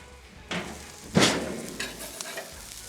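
Smash burger patty and bun cooking on a hot griddle give a soft steady sizzle, with a few louder scrapes and clatters of a spatula and lid.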